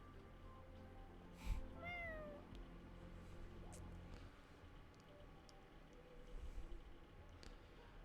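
Little cat creatures in the video game Honkai Star Rail let out a short series of high, sliding meows over a quiet game background, followed by faint rustling and soft ambient tones.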